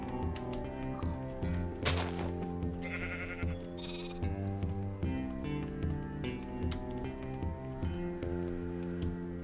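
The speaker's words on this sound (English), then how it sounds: "Brown sheep. Oh my god, there's a lot of animals here." Brown sheep bleating in a game farm area, a few short wavering bleats rising over a busy musical background with soft taps and squishy effects.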